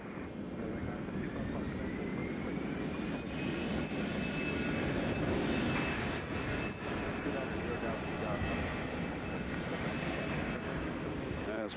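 An Allegiant airliner runs out at Nashville International Airport, a steady distant jet engine roar that holds for the whole stretch and sits fairly faint in the background.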